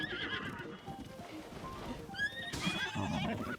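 A horse in Zelda Tears of the Kingdom whinnies while being ridden, hooves clip-clopping steadily beneath, with a couple of high neighs rising over the hoofbeats.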